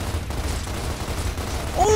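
Gunfire in the video game Gears of War Ultimate Edition, a steady rattling burst of shots filling the whole moment, with a short voice cry at the end.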